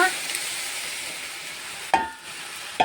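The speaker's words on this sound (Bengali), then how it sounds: "ভালো করে শাকটা ভেজে নিচ্ছি" Jute leaves are fried in a pan with a steady close sizzle, broken by two sharp stirring scrapes near the end.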